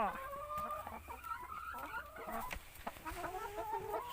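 Several chickens cluck and warble continuously close by, their calls overlapping in a busy, chattering stream.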